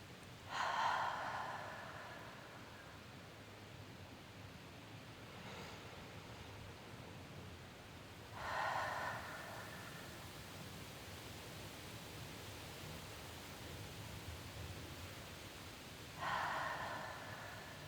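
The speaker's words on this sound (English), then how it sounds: "full inhale through the nose and then out through the mouth" Ocean breathing: three slow, deep breaths, each a full inhale through the nose and an exhale through the mouth, close and soft over a faint background hiss.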